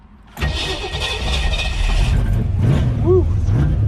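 A 1965 Ford Falcon engine fires up for the first time: a loud starter crank gives way to a rising, rumbling idle that settles into a steady running drone, close and unaccompanied by talk.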